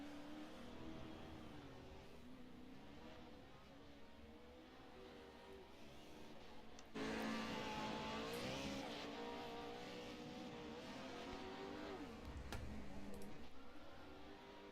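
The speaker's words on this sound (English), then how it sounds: "As he comes out on track now, let's see what the 20 truck can do." A Pro 4 race truck engine in a sim racing game at Crandon, heard as continuous engine drone with rising and falling revs, which jumps louder at about seven seconds and stays prominent.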